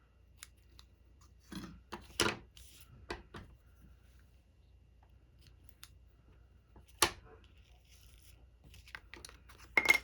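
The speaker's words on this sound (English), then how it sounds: "Grab my snips so I can cut this off." Craft snips trim the tied knot end on a Christmas treat box, making a few crisp, quiet snips with faint paper rustling between them and no talking.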